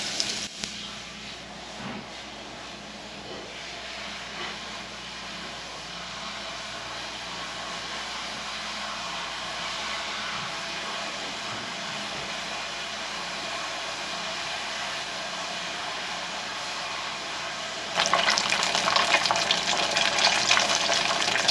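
Chunks of beer-battered sheepshead deep fry in hot oil with a steady, dense sizzling hiss that runs throughout and grows louder and brighter near the end.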